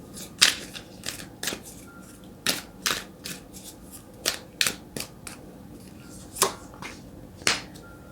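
Tarot cards being shuffled and drawn during a reading: a dozen or so crisp, papery snaps and riffles spaced irregularly over several seconds, close and fairly quiet, with no talking.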